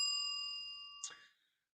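A bell ding rings out in the OOTP 25 Baseball video game, a bright metallic tone with long ringing harmonics that fades, followed by a short clang near the end, heard alone at moderate loudness.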